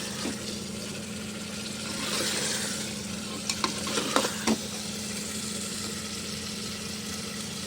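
Mutton is sautéed in a pan under a steady low sizzle, with a few brief stirring clinks and scrapes near the middle.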